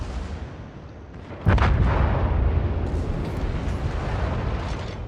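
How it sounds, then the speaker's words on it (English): Pensacola 203 mm naval guns firing in the World of Warships game: one heavy, loud boom lands suddenly and rolls into a long rumbling tail. "Pensacola guns, they hit very hard for the tier."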